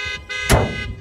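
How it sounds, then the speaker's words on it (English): A car alarm sounds outdoors at a paintball demolition derby with Ford, Honda and Mitsubishi cars, giving a steady electronic tone that pauses briefly and resumes, with a louder burst in the middle. "Your car alarm's going off."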